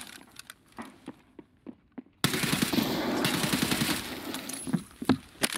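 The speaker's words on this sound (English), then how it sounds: "Way too many shots to kill that boy" Gunfire in Escape From Tarkov: a string of sharp, separate shots, then a sustained loud burst of rapid automatic fire lasting a couple of seconds, followed by more scattered single cracks.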